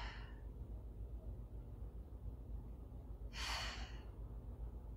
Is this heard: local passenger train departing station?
no